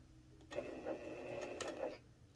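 A Janome HD9 sewing machine stitches in a short run of about a second and a half, a quiet, close, rapid mechanical whir with a few faint rhythmic knocks, and no talking.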